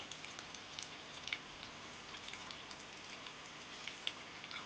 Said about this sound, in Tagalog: kagabi pa umuulan.